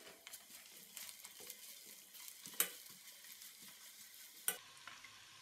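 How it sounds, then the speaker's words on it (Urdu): Ginger garlic paste sizzles in a pan with softened onions in ghee, a continuous close frying hiss broken by regular stirring scrapes and two sharp metallic clinks of a spoon. "اب اس میں دو ٹیبل سپون ادرک لہسن کا پیسٹ ڈالیں،"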